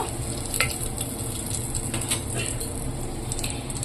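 Whole cumin seeds, a bay leaf and dried chilli frying in hot oil, giving a close, continuous crackling sizzle with a few sharp pops and light scraping from stirring, no voices.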